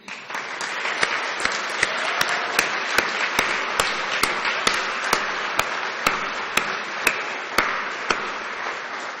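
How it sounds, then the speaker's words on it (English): An audience at a closing keynote of a teaching conference applauds for a named person, a steady dense clapping with distinct sharp claps popping out regularly, holding a consistent level throughout. "can I ask you all just to join me in a round of applause for Debbie?"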